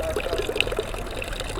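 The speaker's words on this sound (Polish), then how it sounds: "woda to jest świetna rzecz, orzeźwiająca z kranika miejskiego" Drinking water pours and trickles from a small public fountain tap decorated with a seahorse on Piazza Duomo in Taormina, Sicily, a steady close splashing stream with faint street ambience and no talking.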